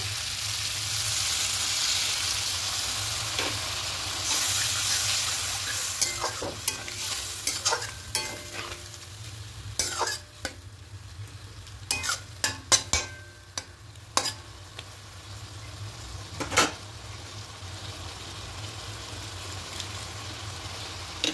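Goat offal (liver and stomach) sautéing in a pan, a gentle steady sizzle with repeated scraping strokes of a spoon stirring through, close and fairly loud, no voices.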